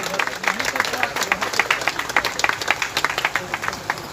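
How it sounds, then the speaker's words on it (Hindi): Audience clapping to welcome guests at a birth-anniversary ceremony in Varanasi, a steady run of distinct hand claps with a crowd murmur beneath. "आप लोग ताली बजा करके स्वागत करेंगे"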